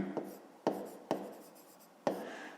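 Pen or pencil strokes on notebook paper make four quick scratchy taps with short scraping tails, close and quiet, spaced irregularly over a couple of seconds with no voice.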